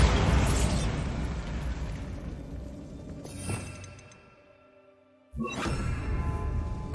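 A Bombarda spell explodes in Hogwarts Legacy with a loud, dense blast that slowly dies away into near silence before a second sharp burst erupts.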